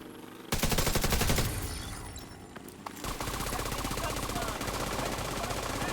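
A minigun in The Division 2 rips out sustained rapid automatic fire, loud and close, with a dense continuous rattle across most of the stretch and a brief dip in intensity partway through.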